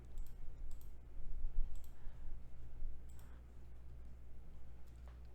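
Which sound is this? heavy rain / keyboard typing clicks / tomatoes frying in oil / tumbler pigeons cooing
keyboard typing clicks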